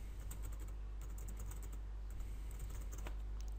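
Typing a folder name on a computer keyboard: quick, irregular key clicks tapping in a steady patter at close range over a faint background hum, with no talking.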